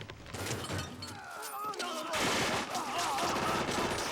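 Gunfire from a Desperado film action scene, guys flipping tables with guns, as a dense fusillade of overlapping shots and crashes that fills the clip loudly, with voices mixed into the chaos.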